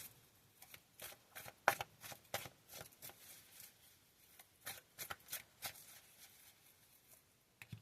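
A tarot card deck being shuffled by hand, a series of quick riffling flutters and soft slaps in irregular bursts, close but quiet, with no talking.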